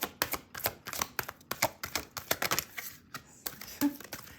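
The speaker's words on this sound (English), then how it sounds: "These cards are funny to shuffle." Rapid, crisp riffling of stiff tarot cards being shuffled, a dense flurry of sharp flicks and slaps, close up, with a brief pause near the end.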